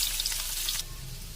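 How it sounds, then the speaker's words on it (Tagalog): Onion and garlic hit a hot pan still used from stir-frying carrots and cabbage, a bright, loud sizzle that cuts off abruptly after under a second, leaving a low quiet hum. "Same pan, dito ko na rin igisa yung sibuyas,"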